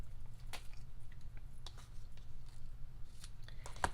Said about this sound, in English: then we're ready to trim our little tails off